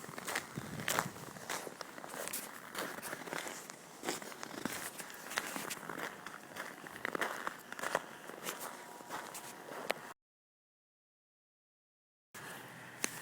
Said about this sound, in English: This is the sound of me walking home.